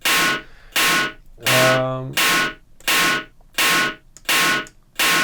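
A distorted electronic snare drum, heavy in low end, strikes about eight times in a steady loop, each hit loud, sharp and buzzy with a short decay, and one hit rings with a deeper tonal tail.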